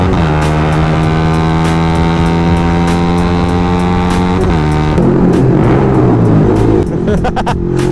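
A Toyota 86 sports car engine drones loudly with a rising tone, then shifts and fades as it goes past, leaving rougher rumble and wind noise.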